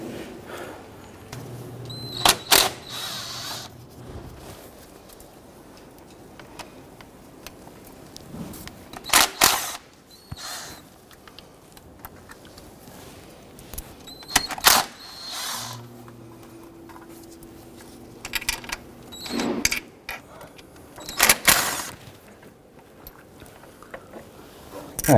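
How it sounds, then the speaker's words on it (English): A 1/4-inch ratchet with extension and socket loosens valve cover bolts on a Jeep Wrangler, heard as scattered sharp clicking bursts and short mechanical rattles spread across a quiet workshop background, with a few faint hums between them. "I switched over to a regular 1/4" ratchet with extension and socket for clearance issues on the back side here."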